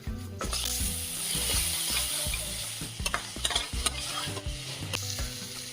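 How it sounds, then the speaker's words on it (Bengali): Spice masala with capsicum, whole garam masala and bay leaves fries in a pan, a loud continuous sizzle with repeated scraping stirs and clunks growing busier toward the end. "আর এর মধ্যে ফোড়নে দিয়েছিলাম গোটা গরম মশলা আর তেজপাতা মশলাটাকে কষাচ্ছি"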